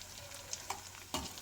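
Green chillies and curry leaves dropped into hot oil give a steady close sizzle with a couple of sharp crackles and a brief louder burst of spattering, no voices.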